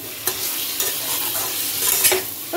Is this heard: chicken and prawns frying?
yes